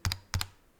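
Two pairs of crisp keystrokes on a DarkBeacon Blade 68 compact mechanical keyboard, each a quick double click with a low thock, close and clear in a quiet room.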